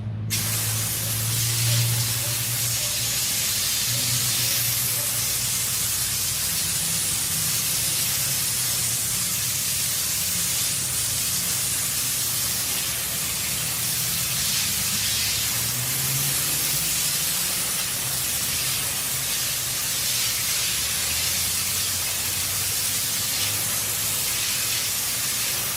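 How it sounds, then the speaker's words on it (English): Water sprays steadily from a hose against the Take 5 car wash building, a continuous broad hiss with low rumbling undertones that holds at an even level for the whole stretch, with no talking. "Who's been spraying water on the Take 5 car wash building?"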